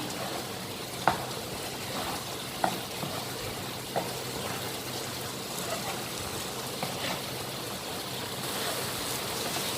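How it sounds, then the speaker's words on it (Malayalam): Gobi manchurian with cauliflower tossed in a pan, a steady low sizzle running throughout with a few sharp spoon knocks against the pan spaced a second or so apart. "ഒന്നും കൂടെ എല്ലാം ഒന്ന് മിക്സ് ചെയ്തെടുക്കാം."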